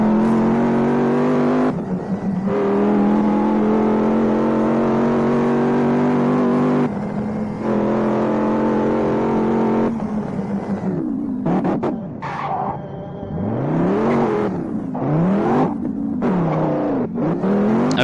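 Engine of a car driven fast in a Vegas gangster video game, a loud sustained whine that rises and falls as the car revs, accelerates and shifts, with sweeping pitch changes near the end and no talk.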